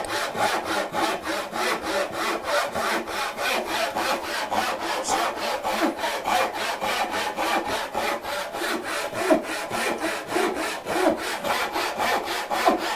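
Hand saw cutting through wood, a steady, even rhythm of rasping back-and-forth strokes, close and continuous throughout.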